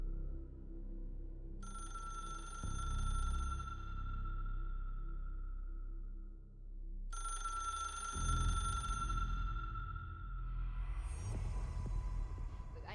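An old-fashioned telephone bell rings in two long bursts inside the Control video game, a bright metallic trill over a low throbbing hum that lingers between rings.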